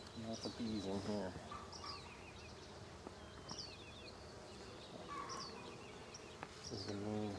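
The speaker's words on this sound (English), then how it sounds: "Lots of bees in here." Honeybees swarm and buzz around an opened hive in a dense, steady drone with individual insects darting close, while people talk intermittently over the buzzing.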